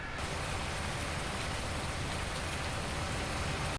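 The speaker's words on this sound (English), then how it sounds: "It's raining." Steady rain hisses evenly throughout in Farming Simulator 19, a dense continuous patter with no voices or other sounds.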